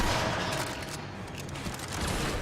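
Tigris Prime shotgun blasts in Warframe, a dense, loud roar of gunfire with overlapping booms filling the whole stretch, no clear gaps between shots.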